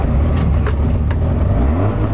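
A 1969-70 Subaru 360 truck with an air-cooled two-cylinder two-stroke engine runs steadily after starting, a loud, close, buzzing drone that holds without a break and with no talk.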